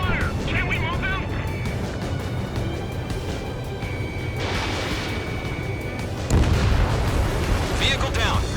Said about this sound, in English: Radar vehicles are under fire!